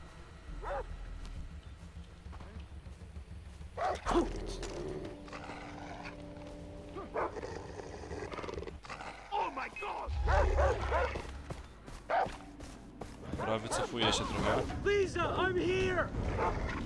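A dog barks and yelps in Far Cry 3, with several sharp barks and whimpers over game ambience while someone talks over much of it.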